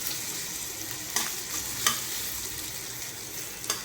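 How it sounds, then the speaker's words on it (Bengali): Grated coconut frying in a pan for Eid jorda semai gives a steady close sizzle, broken by a few sharp scrapes from stirring. "নারকেলটা আমি একটু হালকা ব্রাউন কালার আসা পর্যন্ত ভেজে নেব।"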